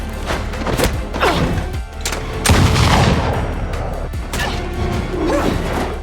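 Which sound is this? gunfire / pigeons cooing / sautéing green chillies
gunfire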